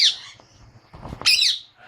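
A dominant edged green misty budgerigar cockbird and a pastel silver budgie give sharp, bright chirps and squawks at close range, one burst at the start and a louder warbling call near the end with quieter gaps between.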